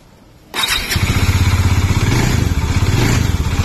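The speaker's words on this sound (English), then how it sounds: "I'm turning on my Dominar exhaust, which is completely tamed down" After a short quiet moment, a Bajaj Dominar motorcycle starts and settles into a steady, fairly mellow rhythmic exhaust burble through its silencer, close by.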